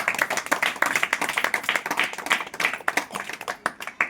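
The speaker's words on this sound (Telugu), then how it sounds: "కొట్టాలి చప్పట్లు గట్టిగా." An audience claps hard and continuously, a dense, fast patter of many hands that stays loud for the whole stretch with slight surges and dips.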